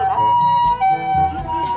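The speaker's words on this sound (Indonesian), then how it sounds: "Wow, lihat, di sini ada mobil ambulan." A white toy ambulance siren wails in a high electronic tone, loud and close, with clicks and rattles underneath.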